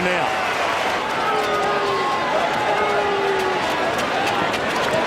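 Richmond supporters cheer at an Australian football match at the SCG, a broad, steady crowd roar filling the stadium throughout, with a commentator's voice faintly over it.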